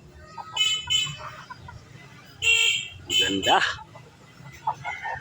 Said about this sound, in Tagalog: Tumitilaok na yan mga hunter.